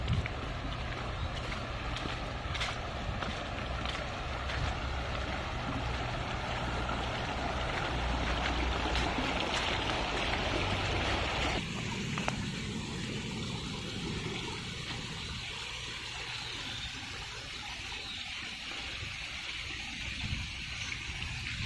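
River water rushes and flows steadily near a bridge, a dense broadband wash that continues throughout and thins slightly after the midpoint, with faint wind.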